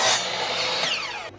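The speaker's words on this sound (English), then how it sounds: "I'm just sawing this at an angle." A hand saw cuts wood at an angle, giving a brief rasping burst of strokes that fades out after about a second, with no talking.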